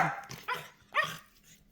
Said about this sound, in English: My dog is being noisy. Little Yorkie.